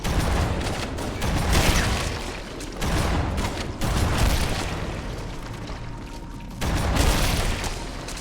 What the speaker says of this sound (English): use the actual explosions of those pods to take out some of the enemies